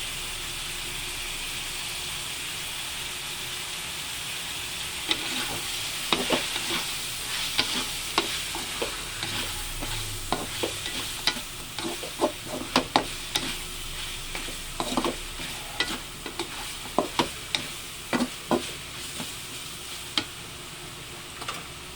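Chicken curry with curry powder sizzles steadily in a pan while a utensil stirs it, with repeated scraping strokes against the metal that grow more frequent, close and continuous over the frying hiss.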